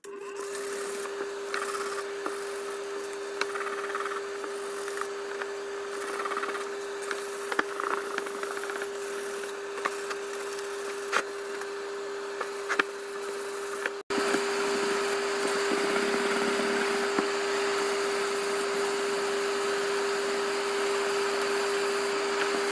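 Hand sanding on a VW Jetta Mk2 body panel, close and fairly quiet: repeated rasping strokes over a constant electrical hum, with the scraping texture shifting partway through as the work continues.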